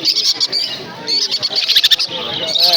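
Many caged birds chirp and tweet in dense, overlapping calls at a busy bird market in Naihati near Kolkata, with bright high trills running throughout and faint voices in the background.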